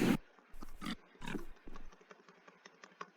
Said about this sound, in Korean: 돼지를 좀 몰아보실까?